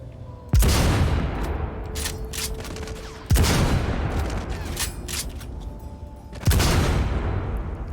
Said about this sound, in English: I'm shooting the window